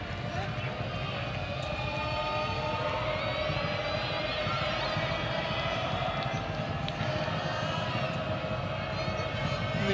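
A football crowd at an Adelaide United match roars as a steady, dense wash of noise, with a commentator's voice over it.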